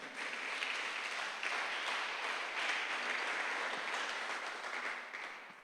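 Church congregation applauding together, a sustained wash of many hands clapping at steady volume before tapering off at the end, with no voices over it.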